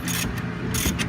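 A ratchet clicks steadily and close up as it loosens the second rear brake caliper bolt on a 2013 Dodge Charger, a brief continuous run of metallic ticking.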